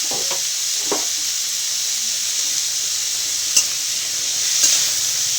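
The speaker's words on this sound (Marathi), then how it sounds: "चल ते हलवून घे चांगलं." Food frying in a home kitchen pan, stirred with a steady close sizzle and hiss and a few scraping utensil strokes, with no talking.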